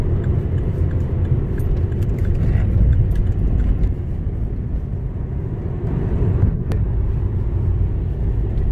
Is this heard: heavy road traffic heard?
yes